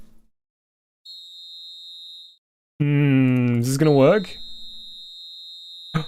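A steady electronic whistle tone from a video game, then a harmonic alarm-like sweep that rises and wavers, followed by a high sustained beep; a voice speaks briefly in the middle.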